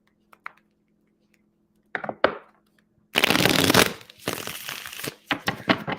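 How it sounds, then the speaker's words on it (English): A deck of tarot cards is shuffled close by: a few light taps, then a dense riffling burst, then a series of shorter sharp flicks and slaps. "Too many cards. I got to shuffle them again."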